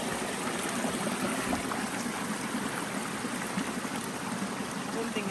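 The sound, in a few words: river stream flowing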